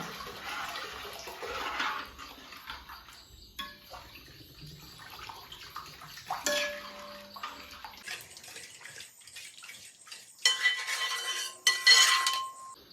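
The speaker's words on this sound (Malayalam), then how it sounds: "ഇനി അതിലേക്ക് പുളിക്ക് ആവശ്യമായ വിനാഗിരി ചേർക്കുകയാണ്" Vinegar is poured into a homemade sardine fish pickle and stirred in, giving a steady watery pouring hiss followed by light metallic clinks of a spoon against the container, close and fairly quiet.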